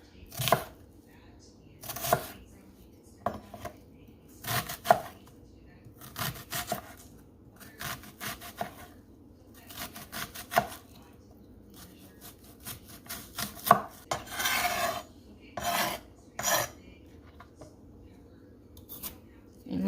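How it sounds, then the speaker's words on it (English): A knife chops half an onion and a celery stalk on a cutting board, with sharp, close thuds in irregular bursts that quicken into faster runs, and a voice talking now and then between the cuts. "Next, I'll cut up this half of an onion and one celery stalk"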